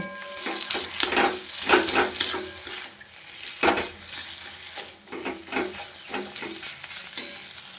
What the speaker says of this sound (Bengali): সামান্য পরিমাণে ধনে গুঁড়ো আর দেবো সামান্য পরিমাণে জিরে গুঁড়ো দিয়ে পুরটা ভালোভাবে কষিয়ে নেব